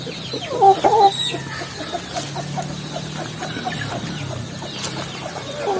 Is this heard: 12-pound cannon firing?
no